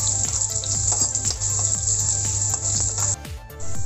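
Green chillies sizzle in hot coconut oil with curry leaves as a Kerala pineapple pachadi is tempered, a steady loud hiss and crackle with bursts of popping, close up and running throughout with no voices.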